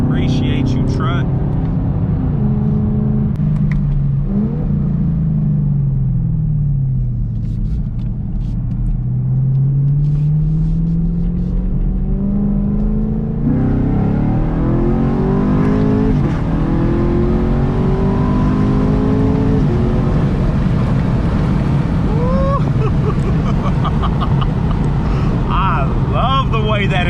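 A Chevrolet Camaro SS fitted with a Corsa valved cat-back exhaust and double X-pipe rumbles loudly at close range, its note dropping and then swelling through long revs into a harder bark, with a voice heard over it.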